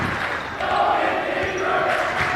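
Crowd at a high school varsity basketball game on rivalry alumni night roars and cheers in a broad, steady wash of noise, close and loud, with an announcer's voice faintly under it.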